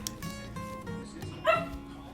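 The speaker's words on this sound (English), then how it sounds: "Why are you barking, Charlie?" A dog barks and yips indoors, a few short sharp calls with some whimpering, moderately close over a low background hum.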